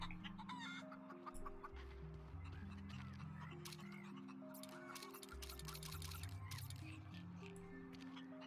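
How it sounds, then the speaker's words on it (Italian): Chicken clucking in a video game, short repeated clucks sitting over a steady layer of game music and ambient tones, moderately loud and continuous throughout. "C'è un pollo."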